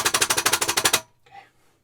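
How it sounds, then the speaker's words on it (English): An oil-painting brush rapped hard against the side of a bucket, about a dozen rapid, loud, evenly spaced knocks in one burst, followed by a brief fainter scrape. "I give it a good bang just to clear off any excess."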